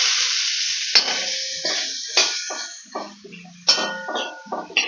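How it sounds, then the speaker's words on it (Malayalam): Sliced onions go into a hot pan with fennel seeds and are stirred, producing bright, loud sizzling with repeated scraping strokes of a spoon in uneven bursts close by. "ഇനി ഇതിലേക്ക് നമുക്ക് സവാള ചേർത്ത് കൊടുക്കാം കേട്ടോ."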